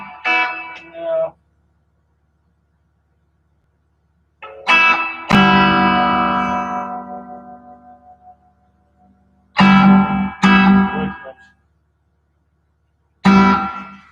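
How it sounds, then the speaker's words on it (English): An electric guitar played through an HX Stomp effects unit with reverb added: a few separate strummed chords and picked phrases, each ringing out in a long reverberant decay, with silent gaps between them. "Let me throw on a little reverb."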